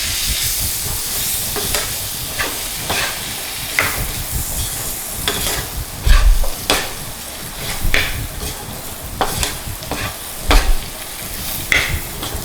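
Beef fry with masala being stirred in a pan over a low flame, a continuous sizzle broken by repeated scraping strokes of the spoon and occasional louder clanks, close up and with no talk.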